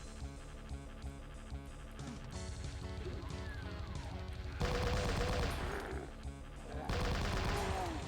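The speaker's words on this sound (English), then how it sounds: "Titan artillery" Titan artillery fire in a video game, loud rapid barrages of shots and blasts that build in intensity, with a short whistling sweep in between.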